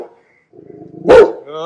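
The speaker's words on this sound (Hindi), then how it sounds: "बहुत मजा आ रहा होगा गुर्राने में" A Rottweiler gives a short, loud throaty growl close by after a quiet pause, with a voice speaking just before and after it.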